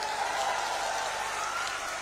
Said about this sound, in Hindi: आइए विजेंद्र बाबू के लिए जोर दी ताली बजाइए जरा।